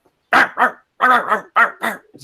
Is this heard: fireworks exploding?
no